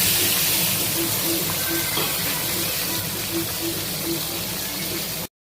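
Prawns dropped into a little hot oil in a pan with raw jackfruit cooking nearby, giving a steady, dense sizzle and bubbling hiss that runs continuously at moderate loudness, with no talking.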